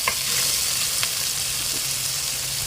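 Ground pork giniling sizzles steadily in a hot pan for a sweet Filipino-style spaghetti sauce, with a bright continuous crackle and a few soft stirring scrapes, close and unaccompanied by talk.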